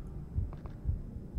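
A slow heartbeat in the Backrooms horror game thuds low and muffled, with three soft beats spaced about half a second apart over a faint background hum.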